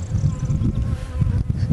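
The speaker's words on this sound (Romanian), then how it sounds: "Albinele sunt cam agresive." Bees buzz loudly and close in a rapeseed field in the evening, a dense, restless drone of many insects that swells and dips without pause.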